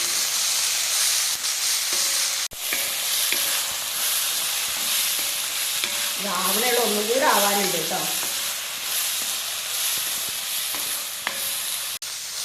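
Egg roast masala sautéing in a pan sizzles loudly and continuously, with occasional stirring knocks; someone speaks briefly midway over the frying.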